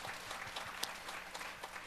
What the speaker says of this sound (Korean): 수고해 주신 최경영 목사님과 우리 솔리스트에게도 박수 한번 주시기 바랍니다